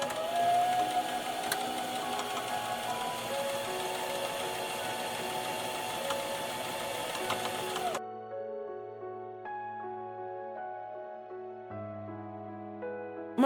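A sewing machine stitches fabric for a historical Chinese garment with a steady mechanical whir, then stops around the midpoint, leaving quiet clicks and faint tonal background noise.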